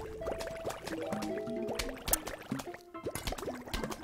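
Bubbly, gurgling liquid effects from the video game Plants vs. Zombies pop in quick, irregular succession. Short tonal blips and splashy plops layer over one another at moderate volume, with no voices.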